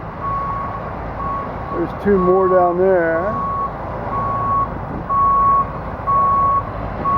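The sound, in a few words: asphalt trucks reversing with backup beeps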